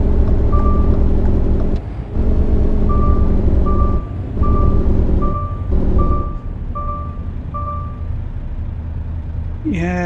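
Inside the American Truck Simulator game, a truck's reversing alarm beeps at a steady rhythm over a loud, low engine rumble. Brief gaps break the drone, and a rising tone closes the passage.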